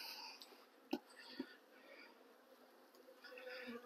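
Steady, close buzzing of many honey bees droning together as they are shaken off hive frames, with a few soft taps and knocks against the hum.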